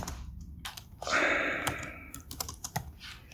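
Rapid clicking keystrokes on a computer keyboard, typed out in short irregular bursts with a denser run in the middle, close and clear with no voices.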